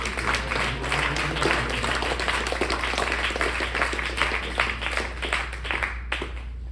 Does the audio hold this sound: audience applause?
yes